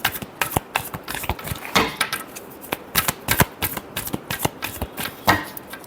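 Tarot cards are shuffled by hand up close, a quick, uneven run of crisp flicks and slaps with no talk.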